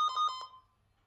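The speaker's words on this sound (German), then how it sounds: "Telefon." An office telephone rings briefly with four quick warbling pulses that fade into near silence. The ring is fairly faint and alone, with no talk over it.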